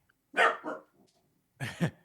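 A dog barks in two separate bursts at close range, loud against a quiet room during a live sports podcast.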